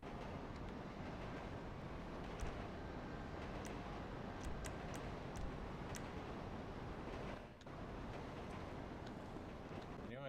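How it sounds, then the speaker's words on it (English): Trains rumble past continuously in a roleplay video game city, a dense, low clattering roar with faint rhythmic clicks, fairly quiet overall and briefly dipping before resuming. "I notice how loud them fucking trains are"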